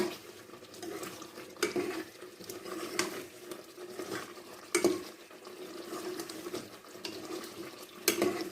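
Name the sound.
stirring and roasting chicken karahi in a pan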